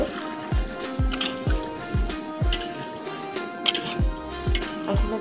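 Water poured onto lightly fried chicken in a cooking pan, giving a regular series of wet squishing, bubbling pulses about twice a second, close and fairly loud.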